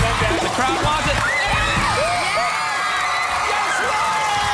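A studio crowd cheers, whoops and yells at a game show, loud and close, over the whole stretch. Excited voices rise and fall through it.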